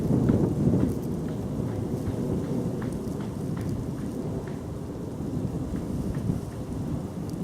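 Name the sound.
wind blowing outdoors on a countryside walk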